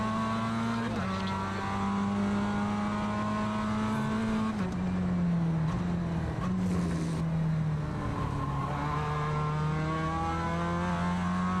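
A race car engine in the iRacing sim droning at high revs, with pitch dropping on each upshift and climbing again, continuous and close with no talk.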